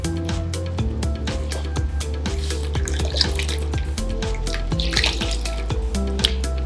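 Water runs and splashes steadily from a tap as a sheet of tissue paper is soaked for a homemade ice apple sheet mask, with a continuous close trickling and small drips throughout.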